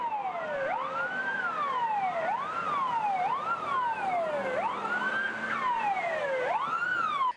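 Several vintage fire engines escorting a historic St. Florian tram sound overlapping rising-and-falling wailing sirens, steady and fairly distant throughout.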